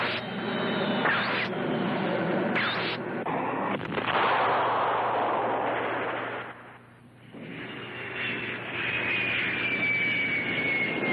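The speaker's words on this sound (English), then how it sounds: "It was one of those jets we saw." Jet aircraft in the Gammera film, a loud roaring engine rush with sharp blast-like hits early on, dipping briefly before the roar swells again with a rising whine.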